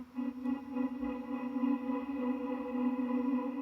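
Guitar pad run through a tremolo effect sustains a droning chord whose level swells and dips in a gentle pulsating pattern, fairly quiet and with no voice over it.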